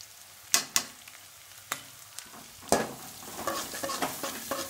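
Frying in a pan while making Maggi noodles, a soft sizzle broken by several sharp clacks of a spoon against the pan, then a busier run of stirring and scraping toward the end, close by.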